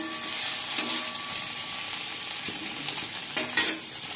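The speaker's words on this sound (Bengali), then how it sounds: "এখন এটা ভাজছি" Noodles or rice frying in a pan, with a constant loud sizzle and a few scraping clatters of a spatula as the food is stirred, close up with no talk.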